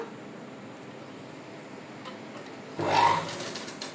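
A sewing machine stitches piping for a boutique-style garment, a steady close mechanical whir throughout that grows louder and busier for the last second or so, with no talking.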